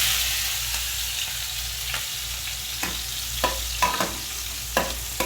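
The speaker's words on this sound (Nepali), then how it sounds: "यसलाई एकछिन भुट्नु पर्यो" Garlic, ginger and green chili frying in hot oil, a steady close sizzle with sharp spatter pops and stirring clicks growing more frequent toward the end, no voices.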